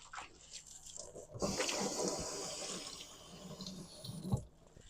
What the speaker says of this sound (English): Wash some of them enzymes off that hand.